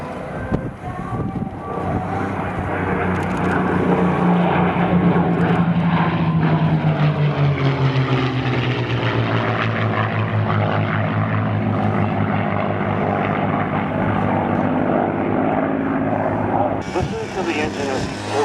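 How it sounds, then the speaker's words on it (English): A P-51 Mustang propeller fighter passing at a WWII airshow, its engine drone rising and then falling in pitch as it flies by, steady and loud for the whole stretch, with no talk. "Here's our P-51s once again."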